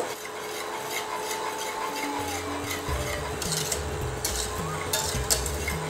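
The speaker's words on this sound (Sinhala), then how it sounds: "අපි මේක හොඳට නටනකම් මේ විදිහට හැඳි ගාමින් රත් කරමු" A spoon scraping and stirring round a pot as a litre of milk heats for rasmalai; soft, continuous rubbing strokes with a few brighter scrapes, fairly faint and alone without talk.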